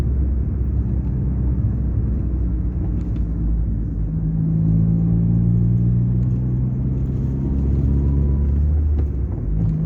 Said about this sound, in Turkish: Bir de vitesi 5'e atalım. Yani devrim düşük olacak